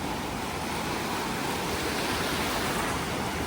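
Continuous rushing surf of sea waves breaking near the shore while a fishing net is thrown into the water among rocks, a loud, steady wash of noise with no talk.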